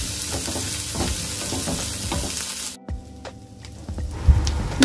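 Chicken pieces fry loudly with turmeric and ginger garlic paste in a hot pan, a steady crackling sizzle with stirring scrapes, then briefly quieter before the frying noise returns.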